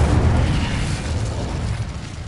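A burst of fire from the Incendio spell cast in Hogwarts Legacy, a broad roaring whoosh that starts loud and slowly fades across the moment, with no voices over it.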